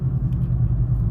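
Deep, steady exhaust rumble from a car fitted with a Magnaflow 14419 muffler with 3-inch inlet, loud and close with a low, even drone.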